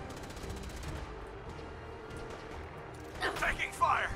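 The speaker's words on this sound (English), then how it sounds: "Taking fire!" Gunfire in the video game Fallout 4 comes as a quick cluster of sharp shots near the end, loud against a quieter game background, while a person talks over it.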